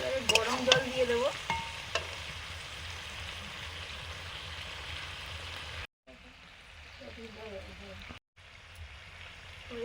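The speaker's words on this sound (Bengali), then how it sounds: "জল দিয়ে দিচ্ছি, গরম জল পরিমাণ মতো।" Hot water goes into a pan of frying meat curry, raising a steady hiss and sizzle with light stirring scrapes while a voice talks over the cooking.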